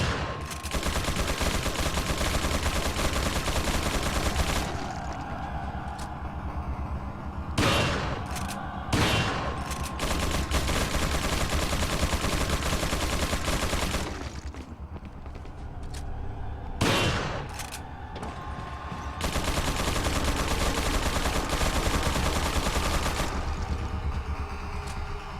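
Sustained gunfire from a Resident Evil video game, dense bursts of shots and fusillades that run almost continuously at close, loud level, broken by brief pauses and sharp individual bangs.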